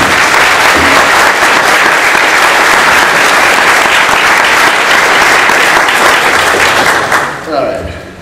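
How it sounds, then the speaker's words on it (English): A convention crowd at a Ghostbusters toy panel at San Diego Comic-Con bursts into loud, sustained applause for several seconds, then it tapers off as a voice begins speaking. "I really want to give Carl a big round of applause."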